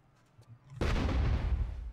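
Gunfire in the video game Arma: Cold War Assault, a single heavy blast that bursts in suddenly after a quiet moment and rumbles out with a lingering low decay.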